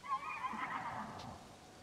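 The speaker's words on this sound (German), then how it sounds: "Kleines Pferdchen." Horse neighing in the video game Zelda Tears of the Kingdom, a single soft whinny that rises and trails off over nearly two seconds, fairly quiet and heard alone.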